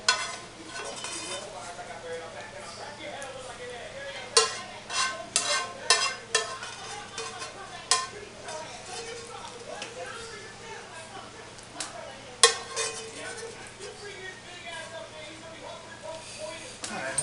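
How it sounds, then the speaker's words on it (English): Browned beef being stirred and scraped in a pan for shepherd's pie, with irregular clinks and scrapes of a utensil against the pan over a soft background, and a voice talking throughout. "You're just going to coat the bottom of the pan with your browned beef."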